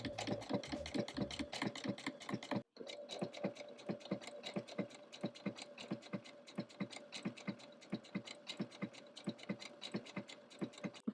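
A sewing machine stitching straight across yarn scraps, running in a steady fast mechanical chatter with a brief pause early on, then continuing evenly up close without talk.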